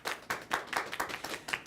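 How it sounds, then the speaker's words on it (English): A small audience at a comedy show gives brief applause, a handful of people clapping in loose, uneven bursts close by, thin rather than a full roar. "All the Italians in the room make some noise. An applause right now."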